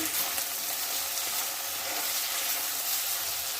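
Chicken pieces sizzle steadily in a hot pan while a chicken stew is cooked on the stove, a dense, even frying hiss close by with no talking.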